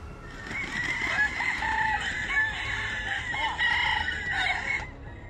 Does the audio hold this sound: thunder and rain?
no